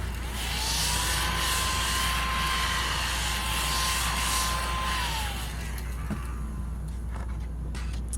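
A vacuum cleaner runs with a steady, loud broadband whine and a sustained tone that holds, then drops as it winds down near the end, followed by a few clicks and knocks.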